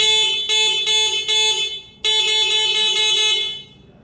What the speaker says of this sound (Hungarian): és brutál hangos a duda